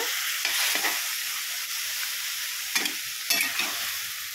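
Tomatoes frying in oil for a tomato pickle, with a steady broadband sizzle under several brief scraping stirs of a spoon in the pan, no voices.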